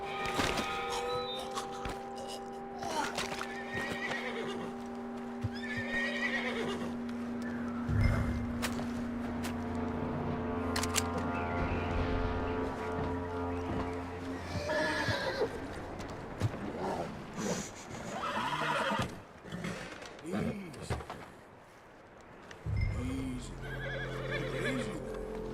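Horse whinnies and clip-clopping hooves in the Western video game Red Dead Redemption, mixed with footsteps and ambient game sound over a long stretch, with a voice speaking at moments.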